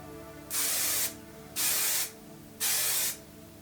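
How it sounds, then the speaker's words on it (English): Three short bursts of hairspray from an aerosol can, each a steady hiss lasting about half a second, separated by brief pauses. "So now let's spray it."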